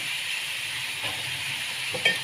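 Frying chicken sizzles and hisses steadily in a pan as fish sauce is poured in, a close, continuous crackle with a few brief bursts near the end.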